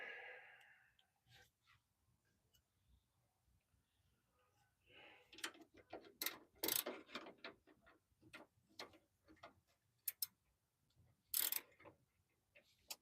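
A wrench clicks and ratchets while tightening an upper control arm bolt on a two-wheel-drive Ford F-150, giving quiet irregular ticks with sharper metallic snaps near the end, along with soft breathing.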